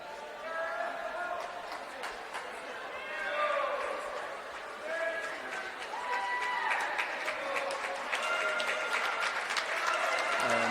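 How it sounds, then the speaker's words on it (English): Spectators applaud at a high school boys swimming meet as a swimmer finishes the 400 freestyle relay, a steady spread of clapping from a modest indoor crowd with a voice talking over it. "Solid round of applause for Aiden as he finishes up here on this 400"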